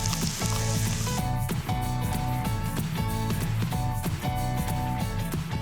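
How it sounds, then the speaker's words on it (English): Okra softening in a hot pan with onions and garlic gives a steady, dense sizzle throughout, with faint utensil clicks and stirring sounds over the frying. "I just wanna soften up my okra a little bit and give it a pop of flavor"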